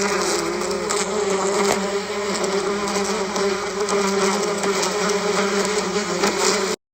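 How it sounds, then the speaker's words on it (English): A bee buzzes steadily and loudly close by, a continuous droning hum with no break for several seconds before it stops abruptly. "Bee."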